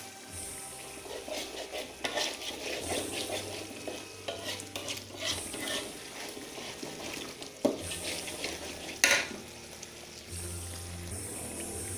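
Sambal bubbles and sizzles in a pan while being stirred, a steady close simmering hiss with scraping spoon strokes and a couple of sharper knocks, no talking.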